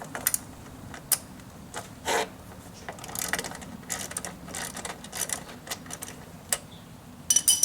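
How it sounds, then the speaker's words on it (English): Ratchet with a 12mm socket loosening a motorcycle exhaust bolt on a GSXR 600/750, close, fairly quiet, irregular clicking bursts with short gaps between them, no talk. "now you're going to want to remove this bolt with a ratchet and 12mm socket"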